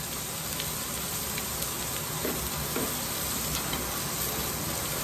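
Chopped jalapenos and serranos sizzle steadily in a pot, a dense, continuous frying hiss that stays even and close with no talking.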